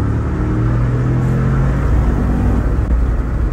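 A heavy car with a panoramic roof idles and revs gently, giving a steady, loud engine rumble and drone throughout with no talking.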